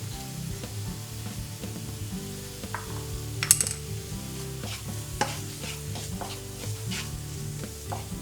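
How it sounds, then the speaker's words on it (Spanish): Cumin, pepper and paprika being stirred and toasted in a pan with softened onion, a steady low sizzle under scraping and clinking of a utensil against the pan, with a sharp metallic clack midway; no talking. "removemos y dejamos que empiecen a tostarse un poquitín para que suelten los aromas"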